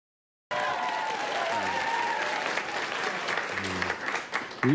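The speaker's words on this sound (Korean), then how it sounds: "박수는 다 듣고 주세요" A live studio audience at a Korean news broadcast's first-anniversary special breaks into sustained applause right after a moment of silence. The clapping is steady and fairly loud, with brief voices and sounds cutting through near the end.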